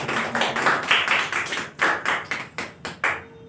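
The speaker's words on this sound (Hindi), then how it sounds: "ताली बजाएंगे परमेश्वर के" Church congregation clapping in praise, a run of loud uneven handclaps close by, thinning into separate sharp claps toward the end.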